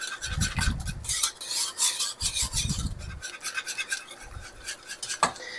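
Black pepper ground from a mill into simmering Alfredo sauce: three close, raspy grinding bursts separated by short pauses, over a faint steady kitchen background.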